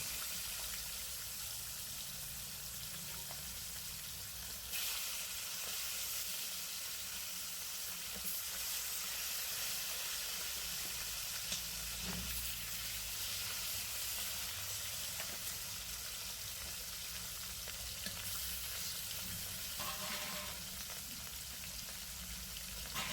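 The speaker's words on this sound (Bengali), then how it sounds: "এবারে ওই তেলের মধ্যে আমি মাছগুলো ভেজে নেব।" Bhetki fish frying in hot oil gives a steady broadband sizzle that holds at an even level throughout, with a few faint clinks and kitchen knocks and no talking.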